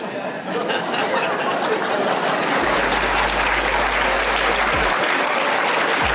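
A large audience claps steadily and loudly, a dense continuous wash of applause mixed with crowd chatter and some laughter.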